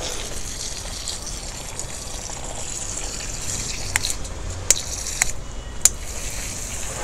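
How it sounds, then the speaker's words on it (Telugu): A steady hissing spray of liquid fertilizer, a moringa leaf solution mixed with Amulya Gold bio fertilizer, is misted onto plant leaves. It runs unbroken and close for the whole stretch, with a few sharp clicks from the sprayer. "ఇదిగోండి స్ప్రే ఇస్తున్నాను."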